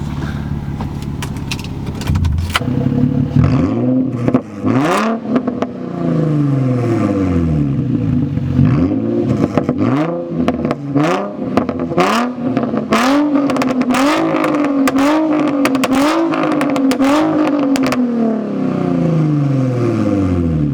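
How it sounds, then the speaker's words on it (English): A Nissan G35's aftermarket budget exhaust revs repeatedly from a distance, rising and falling in a steady series of throaty bursts over a low idle, with no talking. "Just gonna show you guys how my exhaust sounds from afar."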